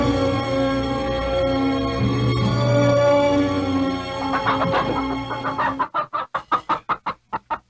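Chickens clucking close by in a steady stream, ending in a quick run of sharp, rhythmic clucks.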